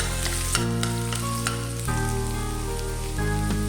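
Garlic frying in cooking oil in a pan, a steady dense sizzle with small pops and crackles running throughout, close and fairly loud, with no talking.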